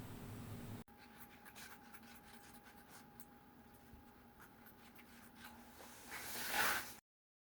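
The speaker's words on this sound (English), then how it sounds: "I'm going to cut through the middle of my dress because it has a zip at the front" Scissors cut through dress fabric, a soft continuous rasping and rhythmic snipping lasting several seconds, close but quiet, swelling louder just before ending abruptly.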